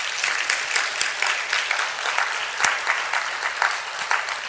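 Church congregation at a Korean Methodist seminar claps together in thanks to God, a dense, steady wash of many hands with no pauses, close and fairly loud.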